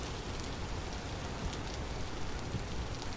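Steady cozy rain in a video game, a dense even hiss of drops pattering on a surface throughout, with no voices.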